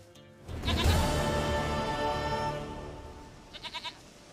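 A goat in The Witcher 3 lets out a loud, drawn-out bleat close by, followed a few seconds later by a quick series of short, fainter bleats.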